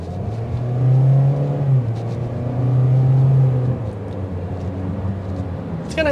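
A 2023 Toyota Corolla Cross XLE pulls away at about 15 mph, its engine hum swelling twice and easing off under steady road noise inside the cabin.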